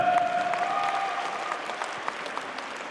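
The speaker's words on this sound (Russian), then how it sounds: "только под ваши бурные овации. Громче, друзья, приветствуем!" An audience gives an ovation at a Buryat music group's 40th anniversary concert, a dense wash of steady clapping at moderate level that slowly fades slightly.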